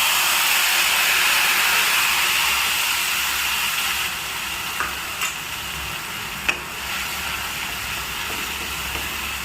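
Steady loud sizzling of a poppy seed, cashew, ginger and green chili paste dropped into hot oil, a continuous crackling hiss that eases slightly partway through, with a few faint clinks of stirring.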